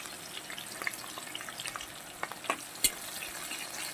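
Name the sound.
onions frying with spices in oil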